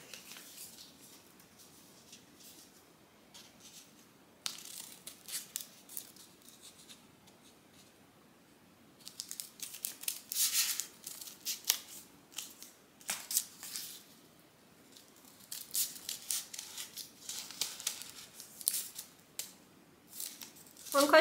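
Scissors snipping through paper while cutting heart shapes for a paper snowflake, soft irregular crisp bursts of cutting and rustling, quiet at first and then busier and denser.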